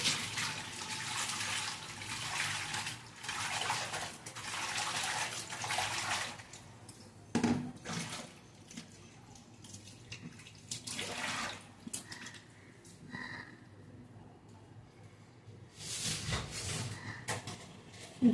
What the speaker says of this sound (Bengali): এখন অল্প করেই ধুচ্ছি